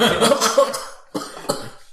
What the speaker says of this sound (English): try and shoot it and start coughing